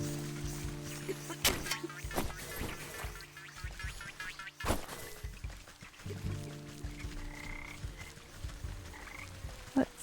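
Frog croaking in the video game Wytchwood, with deep, repeated croaks over ambient game music and sharp clicks, steady and fairly loud, with no voices.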